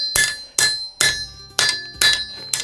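Up close, a hammer strikes hot steel on the horn of an anvil, flaring the steel of a crowbar. Six loud, bright ringing blows land at uneven intervals, with no talk.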